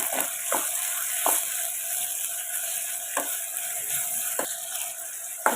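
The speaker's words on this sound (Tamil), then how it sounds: "தக்காளி வதங்குறதுக்கு தேவையான உப்பு சேர்த்து இதை ஒரு ரெண்டு நிமிஷம் நல்லா வதக்கி எடுத்துக்கோங்க" Chopped tomatoes with salt sautéing in a pan, a steady soft sizzle broken by a few brief stirring scrapes and taps spread through the clip, with no talking.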